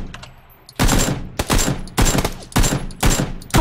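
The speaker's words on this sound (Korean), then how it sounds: "뒤에 있는 거 딱두번 쐈는데 둘다 헤드샷 맞았다" Kar98 bolt-action rifle shots in the battle royale game PUBG, five loud sharp cracks spaced about half a second apart, each with a short decaying tail, no talking.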